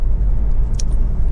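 A Honda HR-V 1.6 i-DTEC diesel engine idles with a steady, deep low rumble, close and even throughout, with one brief light tick over the drone.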